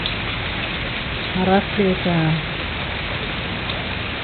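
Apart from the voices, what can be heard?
rain falling on a pool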